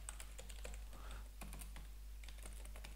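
JavaScript code being typed on a computer keyboard: quick, irregular clusters of soft key clicks, close but quiet over a low steady hum.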